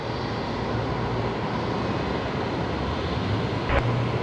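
A Fokker 70 airliner taxis to line up for departure on a runway at Brisbane Airport, heard as a steady, broad jet-engine roar from a distance, with no talk over it.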